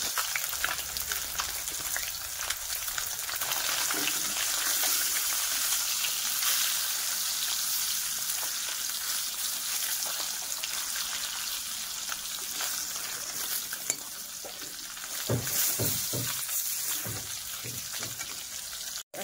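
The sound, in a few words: bean seeds frying with spices in a pan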